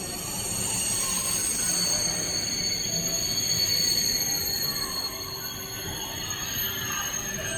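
A Eurostar high-speed train rolls through Liège station in Belgium, a loud continuous roar of wheels on rails with high metallic squeal, sustained and close throughout.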